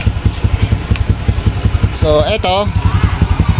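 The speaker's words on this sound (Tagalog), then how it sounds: "So yan, umaandar na motor." A motorcycle with a repaired wiring harness idles close by in a repair shop, its engine putting out a steady, rapid low pulsing throb while someone talks over it.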